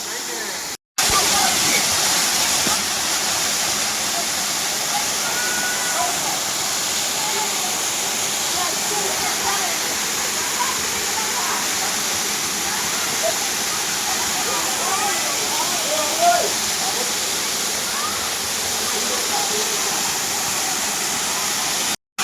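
A waterfall at Daringbadi roars as a constant, dense wash of rushing water, loud and unbroken throughout, with faint voices mixed in beneath the steady noise.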